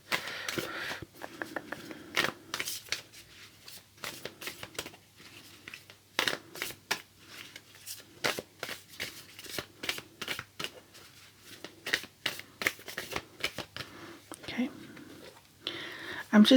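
Tarot cards are riffled and shuffled in repeated crisp bursts of flicking and rustling, close up, while a soft whispering voice speaks throughout.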